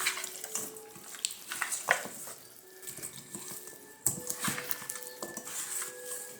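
Pork neckbones tossed with paprika, black pepper and seasoning in a bowl, close clattering and clinking of utensil and dish with wet shuffling between the knocks.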